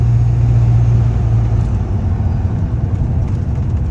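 LB7 Duramax diesel truck with a 5-inch turbo and muffled 5-inch exhaust, a loud, steady low rumble from close by with a slight rise in revs early on, no talking.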